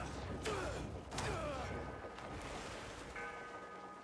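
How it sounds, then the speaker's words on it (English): A bell rings in the video game Crimson Desert, two bright metallic strikes with shimmering ringing tails, then a fainter tonal chime later, set against a low ambient background. "That's the first time I've heard the bell ring."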